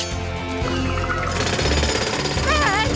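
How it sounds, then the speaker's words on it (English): Cartoon jackhammer drilling as a rescue pup breaks through, a loud continuous rattling buzz with music and whistling effects layered over it throughout. "Jackhammer!"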